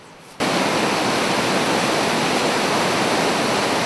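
A series of waterfalls at Upper Dead River Falls, among rocky cliffs and steep trails, roars in as a dense, steady rush after a short quiet moment, loud and close, with no voices.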